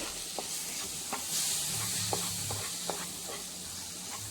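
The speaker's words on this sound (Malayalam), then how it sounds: "മാങ്ങ ചേർത്തിട്ട് എല്ലാം കൂടി നന്നായിട്ട് വീണ്ടും നമുക്കിത് ഇളക്കി കൊടുക്കാം." A mango mixture cooked in plenty of ghee in a pan, for Kerala mango boli, is stirred: a steady soft sizzle under sharp, irregular spoon scrapes and taps, close and alone.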